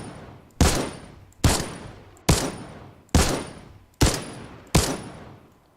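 Six loud, evenly spaced crossbow shots strike a structure in a video game, each a sharp impact followed by a decaying crackling burst, with no voices.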